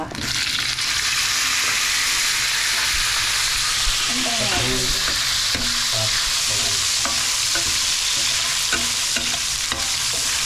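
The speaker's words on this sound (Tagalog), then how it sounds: "Tapos igigisa natin yung ating carrots." Steady hissing sizzle of carrots sautéing in a pan, with occasional scraping stirs and clinks of a utensil against the pan.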